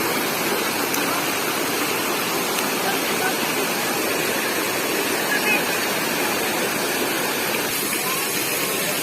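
Cold mountain spring water from Laurel, Batangas flows in a steady, close rush and splash, constant and loud throughout with no break.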